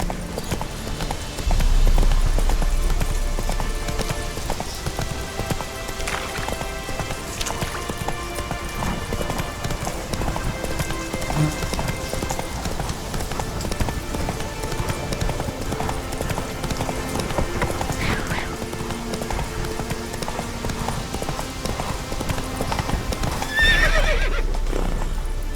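Hooves clip-clop steadily as a horse gallops in The Witcher 3: Wild Hunt, with loud neighs and whinnies rising over rain-like game ambience and music throughout.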